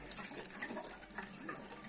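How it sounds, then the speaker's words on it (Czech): CO2 gas flowing into a bottle during home carbonation while displaced water spills over into a reservoir, a soft, steady trickling and bubbling wash with small splashes, quiet and close. "vidíme, jak nám ten plyn proudí do té lahve a voda vlastně přepadá do toho rezervoáru"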